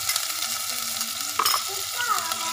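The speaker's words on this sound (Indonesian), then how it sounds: "masukkan bawang, halia, bawang putih ni. Tumis." Onion, ginger and garlic sautéing in a hot pan, a continuous sizzle broken by scraping stirs and a sharp metallic clatter midway.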